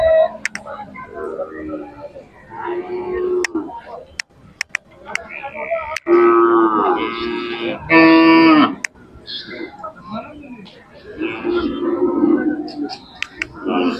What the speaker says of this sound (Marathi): शेती कामासाठी वापरले जुळलेले बडाव बैल आहेत मोठ्या मापाचे.